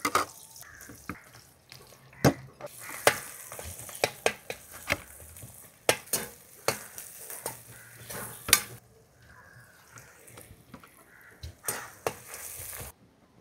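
Three large onions dropped into hot sesame and groundnut oil, frying with a steady bright sizzle while a spoon scrapes and clatters the pan in repeated sharp strokes.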